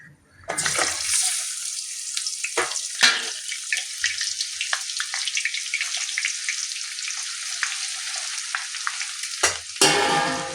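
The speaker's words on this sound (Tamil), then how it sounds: "இப்போ எண்ணெயை போட்டு பொரிக்கலாம்" Indian gooseberries hit hot oil and set off a dense, steady crackling sizzle that runs continuously for several seconds, with a stirring scrape near the end, close and loud for a homemade herbal hair oil.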